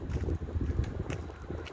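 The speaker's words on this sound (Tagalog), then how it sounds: "Guys, malakas ang hangin." Strong wind buffets the microphone outdoors on a cold roadside, producing low rumbling gusts that rise and fall in uneven bursts over a short stretch.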